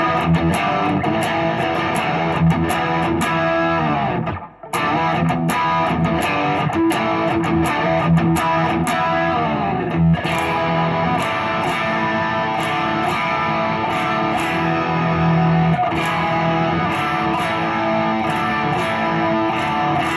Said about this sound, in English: Maybe let's try something a little heavier on this distortion side.